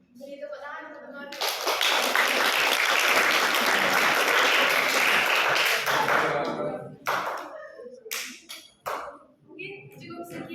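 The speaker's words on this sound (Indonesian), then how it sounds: "Beri tepuk tangan untuk teman." Classroom applause for a student group after their presentation, a loud steady burst of many hands clapping for several seconds that then breaks off into scattered claps and talk.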